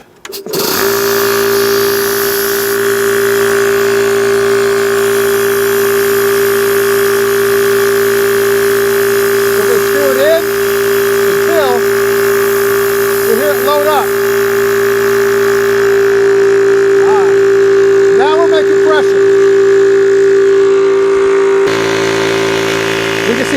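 A Yong Hang 300 bar, 4500 PSI high-pressure air compressor starts and runs with a loud, steady mechanical hum and drone, while a voice speaks intermittently over it.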